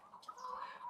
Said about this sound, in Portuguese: são as galinhas privilegiadas daqui da granja